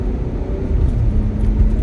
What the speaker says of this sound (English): what's going on with the traffic right here?